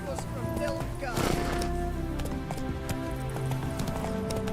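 A horse galloping in The Witcher 3 video game, a rapid steady clip-clop of hooves running throughout, mixed with game sounds and a voice speaking over it.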